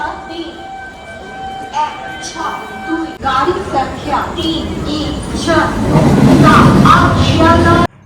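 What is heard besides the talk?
train arriving at station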